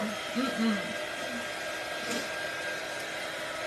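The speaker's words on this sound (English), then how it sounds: "So let's hit these with the dryer." A handheld hair dryer blows steadily on handmade craft pieces at a craft table, a constant close whirring hiss that runs the whole time with faint background voices.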